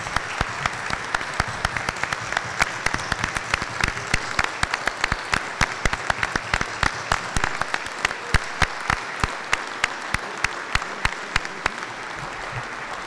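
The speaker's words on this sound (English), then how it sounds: "You certainly deserve a standing ovation." A standing ovation at a town meeting: dense, sustained applause from a large crowd fills the hall throughout, with sharp individual claps popping out near and loud over the steady roar.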